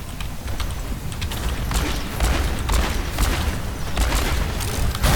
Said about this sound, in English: So I am just shooting at the Reinhardt's wall.